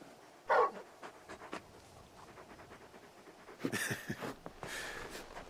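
A big dog companion in the video game Final Fantasy XVI pants in soft, rapid breathy bursts, with a louder huff near the start and more breathing toward the end, fairly close and unaccompanied by talk.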